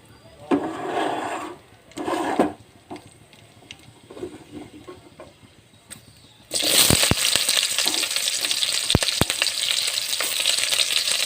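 A few soft knocks and rustles give way to a sudden, loud sizzle as bay leaves, cloves, cardamom and cinnamon hit hot oil for ghugni, then a steady hiss continues with a few sharp clicks.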